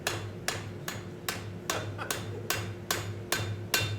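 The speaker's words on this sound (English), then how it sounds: "If you can just hold the piece still for me while I'm hammering" Sharp metallic hammer blows ring out at a steady rhythm, about two strikes per second, as metal is forged, close and clear with no talking.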